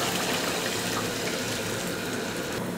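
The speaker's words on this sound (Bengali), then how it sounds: "আমি 2 কাপ গরম পানি দিয়ে দিচ্ছি।" Two cups of hot water pour onto Sonali chicken in a cooking pot, making a continuous close splashing gush with no talking.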